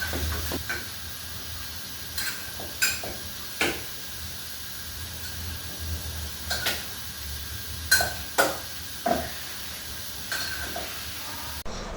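Cooled puda batter is stirred by hand in a bowl, giving quiet swishing and scattered light clinks at an irregular pace, soft and close, with no talk.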